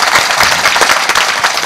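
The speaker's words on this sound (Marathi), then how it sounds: "एकदा त्यांच्या कर्तृत्वासाठी जोरदार टाळी वाजवा." Audience applauding loudly at a Marathi kirtan, dense steady clapping from a crowd that fills the whole short stretch without pause.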